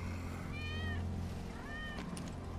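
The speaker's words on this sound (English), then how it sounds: "That's Wedge's cat." A cat in the Final Fantasy VII Remake video game meows twice, clear rising and falling cries over a low steady game background hum.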